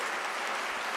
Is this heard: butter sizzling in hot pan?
no